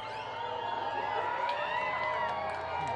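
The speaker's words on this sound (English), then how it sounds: "Crowd's getting excited." A crowd at a total solar eclipse in the US cheers and whoops excitedly as totality approaches, a dense, steady roar of many voices with scattered high shouts throughout.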